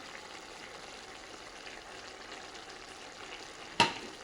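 Pieces of fish frying in a hot pan with vegetables, a steady soft sizzle throughout, broken near the end by a single sharp clank of a utensil.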